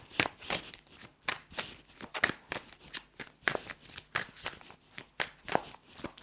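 Rhythmic riffling bursts of playing cards being shuffled close by, repeated quick flutters with short pauses between, no voices.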